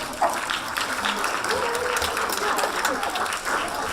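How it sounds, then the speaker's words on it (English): An audience at an international literature festival in Berlin applauds, a dense sustained clatter of many hands filling the room, with a voice speaking over it. "Another round of applause."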